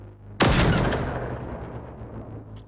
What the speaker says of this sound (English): This is the sound of the 50 cal.